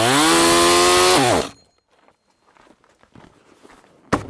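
A chainsaw revs loud and steady at full speed during a chaps test, then the engine pitch drops and it cuts out, leaving faint rustling, footsteps and a sharp knock.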